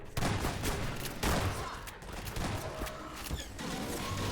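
Dense, continuous gunfire and explosive crashes from a firefight in the video game Half-Life 2, with repeated overlapping shots and bangs filling the whole stretch at a moderate, steady loudness.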